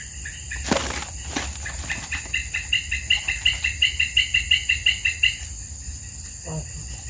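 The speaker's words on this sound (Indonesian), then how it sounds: "Backsoundnya suara burung." Birds call in the background during an afternoon fishing outing, with a clear run of rapid repeated chirps in the middle, a couple of sharp knocks early on and a steady outdoor hum beneath.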